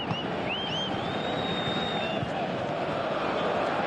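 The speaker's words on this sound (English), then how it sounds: "you can feel and hear how the crowd are reacting to all of this." Stadium crowd noise from the PES 2018 football video game: a steady, dense roar of spectators holds at constant level throughout, with a few faint whistles rising above it.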